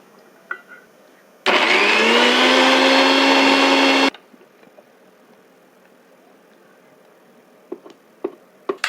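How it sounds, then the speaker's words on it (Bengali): A kitchen mixer grinder whirs loudly for about three seconds, blending aloe vera gel into a paste, starting and stopping abruptly, followed by quiet with faint clicks and handling noises. "এটাকে এবার আমরা মিক্সিতে দিয়ে একটু পেস্ট করে নেব"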